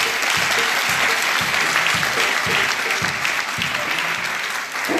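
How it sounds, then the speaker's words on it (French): A church congregation at a celebration of the Celestial Church in Abidjan applauds loudly and steadily, a dense wash of clapping that carries on throughout without pause. "Je vous y engage par des acclamations très nourries."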